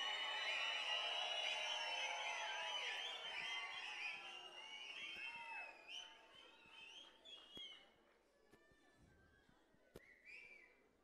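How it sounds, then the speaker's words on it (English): School show audience at Chrysalis High in Kadugodi whistles loudly in a dense crowd, many shrill whistles and cheers overlapping at first, then dwindling into scattered individual whistles and shouts. "Show me some whistling."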